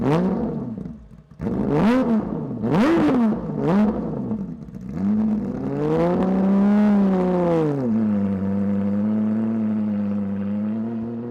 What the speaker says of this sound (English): This is the legendary Walters Arena test stage, and the exhaust has no silencing.